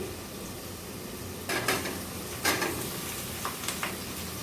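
Chayote pieces tumbling into a pan of fried garlic and onion, giving a few sharp clattering bursts and stirring scrapes over a steady, quiet sizzle, close by with no voices.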